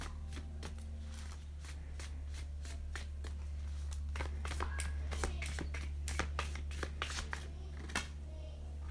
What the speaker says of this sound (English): I'm so glad you watched me shuffle this.